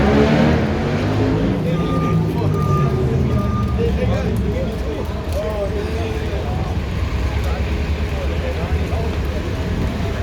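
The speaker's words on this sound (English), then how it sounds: "And then you see these city trucks, streets and sanitation trucks." Streets and sanitation trucks roll along Michigan Avenue in Chicago during Lollapalooza, a continuous low engine rumble and traffic wash over steady city background noise with indistinct voices.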